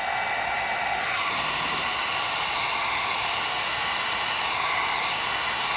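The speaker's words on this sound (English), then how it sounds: "the next thing that we're going to actually use is heat from a heat gun" A heat gun blows hot air onto tint film on a Ford F150 third brake light, a steady, loud, broadband whooshing roar that stays constant throughout with no talk.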